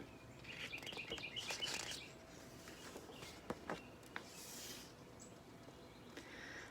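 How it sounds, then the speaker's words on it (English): Little birds startled from a hedge chirp and flutter off, with quick high tweets clustered early on, then scattered light pattering and rustles that fade out at a modest distance. "he startled some little birds, who flew off in all directions"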